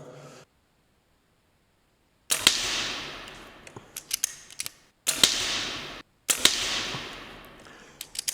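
Three sharp shots from an SMK CP2 CO2 air rifle firing pellets inside an underground bunker, each a loud crack followed by a long reverberant decay, with small metallic mechanism clicks between shots.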